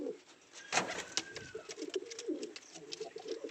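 Pigeons cooing inside their coop: a steady, soft, low burbling coo runs throughout, close by, with a few sharper chirps and wing or scuffle clicks scattered over it.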